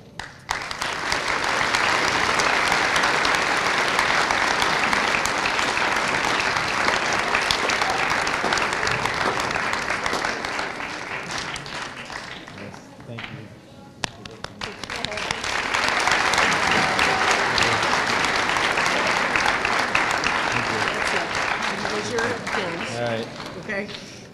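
Loud, sustained applause from a school audience at an award ceremony, dense clapping that dips briefly midway before surging again, with a voice speaking faintly under it.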